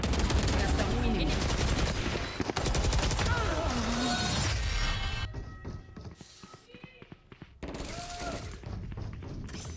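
Bursts of rapid gunfire in the shooter Valorant during a pro esports match, loud sprays of shots with thuds and mechanical clicks, then sparser single shots.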